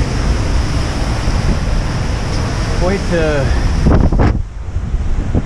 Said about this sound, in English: large seas, breaking waves, gusting wind